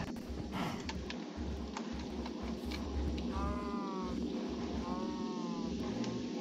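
Sheep in the video game Minecraft give two wavering bleats in the second half, heard over a low, lumpy background rumble, close and moderately loud.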